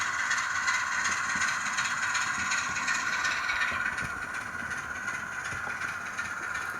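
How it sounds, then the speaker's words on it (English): A model railway Class 25 locomotive runs slowly on a layout, giving a steady whirring motor hum with faint rail clicks, unbroken and fairly close. "Slow running of these locos is fantastic."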